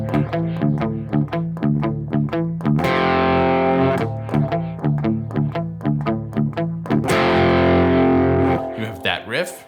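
A riff played on electric guitar through low-gain distortion: repeated picked chord notes in a steady rhythm with sustained ringing chords between phrases, close and clear.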